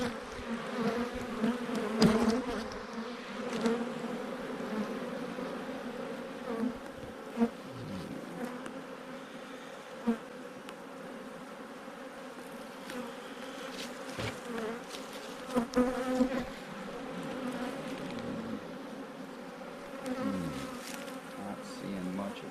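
Honey bees buzzing from an opened hive during a winter inspection, a dense, close, continuous drone with individual bees swelling past, under occasional handling noises.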